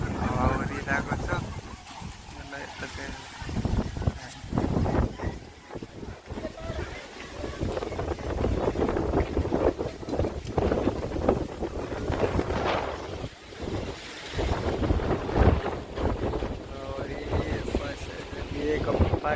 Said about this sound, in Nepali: हावाहुरी लागेको छ